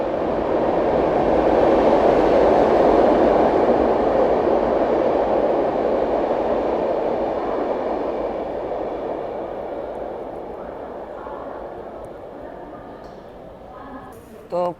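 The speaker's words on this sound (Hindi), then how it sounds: "भाई देखिए क्या क्रॉसिंग हो रही है। पहला ओवरटेक हमारी ट्रेन को पड़ता हुआ।" The Marudhar Express, an Indian passenger train, is passed at a crossing by another train, giving a loud, steady rushing roar of rail noise that gradually fades over several seconds, heard from on board.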